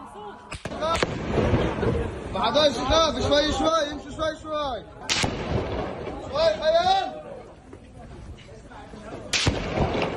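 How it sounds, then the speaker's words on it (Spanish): Several sharp gunshots crack out at irregular intervals while people shout and talk excitedly in between. "fueron ahí varios disparos"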